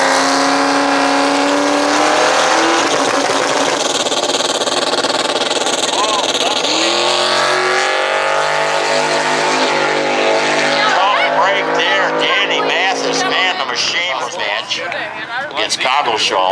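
Drag racing cars, including a 1999 Mustang, roar loudly at a drag racing and drifting event, with sustained engine drone and revving pitch shifts filling the whole stretch, and a voice talking over the noise.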